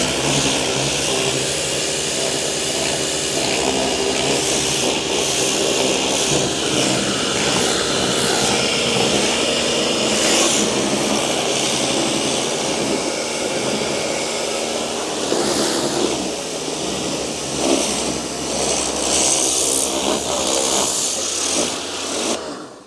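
A Kärcher K3 pressure washer sprays a car, its hissing jet blasting dirt off the bodywork. The pump drones loudly and continuously at close range, with the spray shifting in tone as the nozzle moves.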